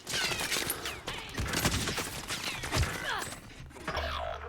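Rapid bursts of gunfire in a shooter video game, dense overlapping shots and clattering effects filling the whole moment at steady loudness, no talking.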